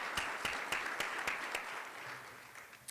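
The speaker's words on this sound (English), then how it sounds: "let's give a round of applause to First Choice Farm and Lawn and Play It Again Sports" Applause from the audience at an academic excellence awards ceremony, a steady wash of clapping with several sharper individual claps standing out, lasting the whole stretch at moderate level and fading slightly toward the end.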